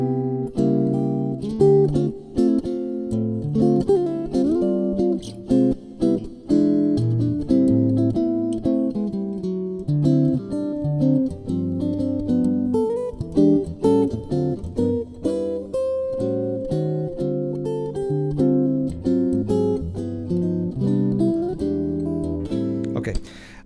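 Solo jazz guitar plays a standard in a mainstream style, clean chords and melody ringing with a steady swing, close and alone.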